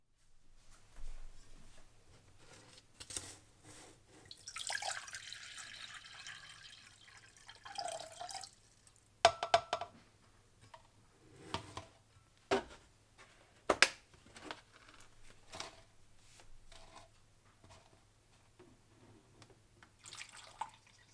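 Distilled water is poured and measured out to 1,000 milliliters for mixing a C-41 film developing kit, with intermittent splashing and dripping into a container followed by scattered clinks and drips, fairly quiet with a low steady hum underneath.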